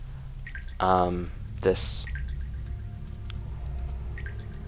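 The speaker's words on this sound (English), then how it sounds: "that water dripping down. Just really minor effect, though" Faint, sparse water drips fall in a cave-like spot in Zelda: Majora's Mask, quiet and intermittent beneath a brief spoken word and a soft sharp click.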